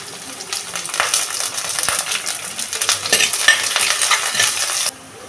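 Mustard seeds, cumin, red chillies, shallots and curry leaves sizzle and crackle in hot oil as a spoon stirs, a dense steady frying hiss that cuts off abruptly near the end.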